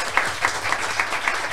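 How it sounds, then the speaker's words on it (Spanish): An audience applauds Patricia, a short, thin burst of clapping with a few distinct claps about a quarter second apart for roughly a second and a half. "un aplauso para Patricia"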